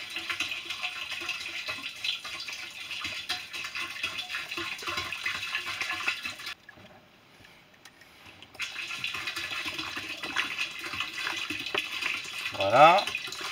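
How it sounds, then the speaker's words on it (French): Vinegar, five litres of it, pours and splashes into the water tank of a Truma CD 400 water heater for descaling, a fairly faint steady gush with a brief pause midway and a clunk near the end; a voice speaks over it. "on va mettre les 5 litres de vinaigre"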